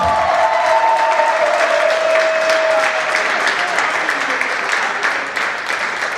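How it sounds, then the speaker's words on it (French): Theatre audience applause for a performer, a loud sustained wash of many hands clapping close and steady throughout, with a faint whistle-like tone early on and crowd voices blended underneath. "Monsieur David Rochelle, est-ce qu'on peut l'applaudir, s'il vous plaît?"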